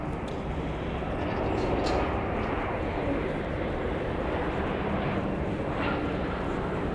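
An airliner arriving and landing at Dallas Love Field, a steady, moderately loud wash of broadband engine rumble that swells slightly midway and stays continuous, with faint voices in the background.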